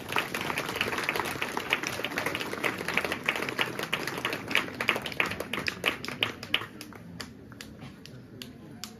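Crowd at a parish golden jubilee ceremony claps to welcome the chief guest, a loud burst of many hands applauding together that gradually thins to scattered claps near the end.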